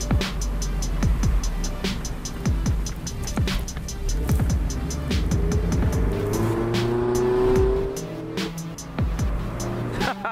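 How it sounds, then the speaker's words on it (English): A 2016 Mazda MX-5 Miata Grand Touring drives past loudly, its engine revving and shifting, with a short exhaust pop and a brief tire squeal, close and alone without talk. "The exhaust even got a little pop back there."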